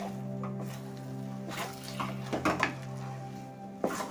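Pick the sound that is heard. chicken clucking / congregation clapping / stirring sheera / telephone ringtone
stirring sheera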